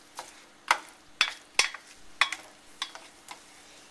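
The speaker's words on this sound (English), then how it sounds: "cook this until you see that the butter is melted and your onions are kind of see-through" Onions cooking in melted butter in a pan, with faint sizzling under a series of sharp, evenly spaced clicks and taps, like a spoon stirring against the pan, with no talking.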